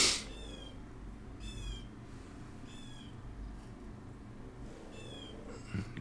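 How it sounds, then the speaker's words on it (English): A crow caws several times while flying past outdoors, the harsh calls repeating at spaced intervals, moderately loud over a steady low background rumble. "Crow flying by."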